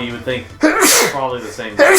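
A loud, sharp sneeze bursts out in the middle of a man's speech, close and abrupt, with talking before and after it.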